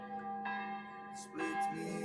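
Church bells ring with sustained, overlapping tones, a fresh strike landing about every second and humming out across a calm, quiet bay in Croatia.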